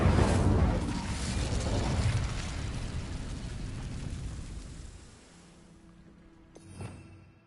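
The Incendio fire spell in Hogwarts Legacy bursts out as a loud roaring whoosh that fades over several seconds, followed by a short faint thump near the end.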